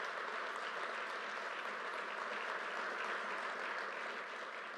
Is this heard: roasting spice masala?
no